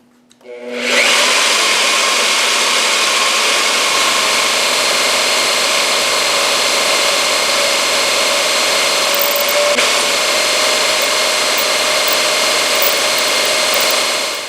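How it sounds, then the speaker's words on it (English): Dry drilling of a 1/2 inch hole in steel with no cutting oil, a steady loud whirring grind with tonal whine that holds continuously for about fourteen seconds after a sudden start. "I drilled the hole 1/2 inch, and then I drilled an additional recess 5/8 of an inch"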